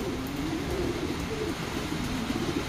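Soft, low cooing from a soaking-wet pigeon runs through steady background noise of rain, and no one speaks.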